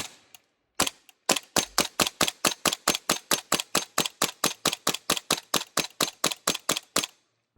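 A Blaster AK Alpha gel blaster fitted with an ACETECH AK tracer unit fires a couple of single shots, then a long, steady, rapid burst of sharp, loud cracks that runs evenly for several seconds.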